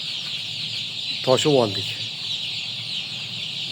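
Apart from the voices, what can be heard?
Adler chicks clucking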